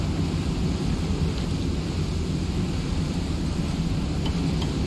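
A thunderstorm in the survival game Icarus, a dense steady roar of rain and low rumbling thunder filling the scene without pause, no talk over it.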